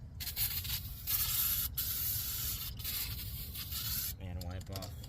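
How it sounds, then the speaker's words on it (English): Brake cleaner from an aerosol can hisses steadily onto a brake rotor of a 2012 Honda Accord, a close, continuous spray with a few brief pauses and a faint voice near the end. "Spray it with some brake clean."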